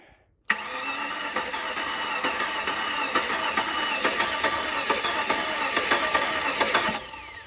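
A flooded 2004 Cadillac DTS Coach Builders convertible engine cranks in a steady rhythmic chug for several seconds after a sudden start, loud and close, then stops.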